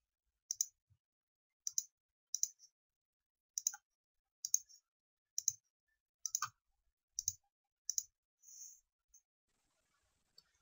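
About ten sharp, quiet mouse clicks, some in quick pairs, spaced at irregular intervals, as nodes are selected to build bracing in arch bridge modeling software; no other sound in between.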